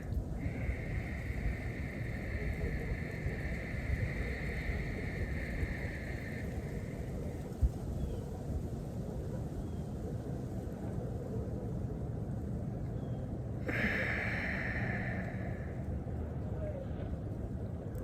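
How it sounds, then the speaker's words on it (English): Slow Ujjayi Pranayama breathing, a soft, steady hiss of breath drawn through a narrowed throat, close and continuous over a constant low background rumble, with a brief brighter rasp near the end. "you might have been able to hear me breathing"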